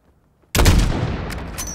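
A single heavy sniper rifle shot in Call of Duty: Modern Warfare (2019) erupts suddenly out of near silence, loud and booming, then rolls away in a long echoing tail.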